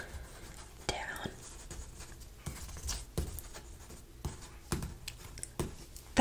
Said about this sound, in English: I'm gonna go ahead and write that down.